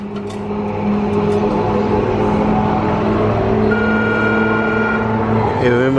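Loud car exhaust with the mid muffler deleted, idling with a steady drone and building into a rising rev near the end, with faint talk in the background.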